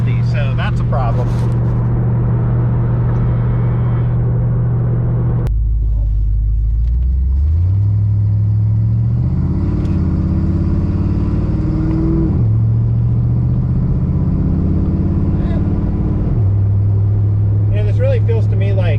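A 1992 Ford Mustang LX 5.0 convertible cruises at moderate speed with a low, steady V8 rumble that steps up and down as it shifts. Someone talks over the engine noise throughout.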